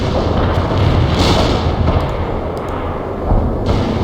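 Artillery fire and explosions from the World in Conflict war game roll on as a loud, continuous battlefield din, with dense low rumble and a few sharper bursts breaking through.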